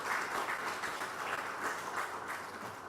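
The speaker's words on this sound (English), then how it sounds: "please, another round of applause for ourselves" A crowd applauding steadily at a startup pitch event, a dense wash of many hands clapping at an even level from start to finish.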